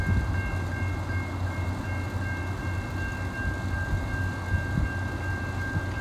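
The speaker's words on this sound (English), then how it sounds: "We got another train coming. Here comes another CSX." A CSX freight train passes a railroad crossing with a steady, heavy rumble and a constant high tone, loud and close, with no talk.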